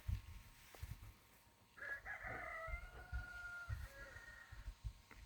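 A rooster crows once at a moderate distance in rural Yunnan, China, a long drawn-out call over quiet outdoor ambience with faint low rumbling of distant machinery.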